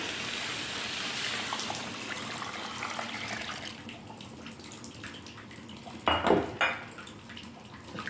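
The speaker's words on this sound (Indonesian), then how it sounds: "Masukkan santan." Coconut milk being poured into a cooking pot for gulai cubadak and stirred, a steady liquid splashing and hissing with scraping, followed by a couple of clinks of a utensil against the pot near the end.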